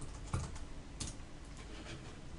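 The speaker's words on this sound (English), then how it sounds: "Go ahead and put in my password." Password being typed on a computer keyboard while setting up a ShoreTel phone system unit: a quick run of soft, close key clicks, moderately quiet, with no talking.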